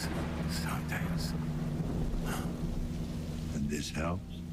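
Steady rain patters beneath a low rumble of thunder in the video game Observer, with muffled voices speaking briefly over the downpour.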